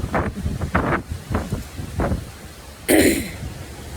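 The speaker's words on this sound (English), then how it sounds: "See how windy it is?" Gusty wind buffets the microphone in low rumbling bursts, with a sharp louder gust near the end.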